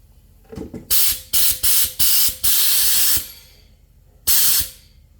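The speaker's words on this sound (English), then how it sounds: "Okay, so the air's coming through." Compressed air from a shop air hose with an on/off valve blows into the differential of a Nissan Xterra. Several sharp, loud hissing bursts come in quick succession, then one longer blast, a pause, and a final burst, with no talking.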